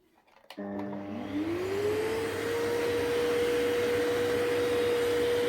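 A Kiwi 4325 carpet and sofa washing machine starts after a click, its motor whine rising in pitch and settling into a steady, loud, close drone that runs without talk.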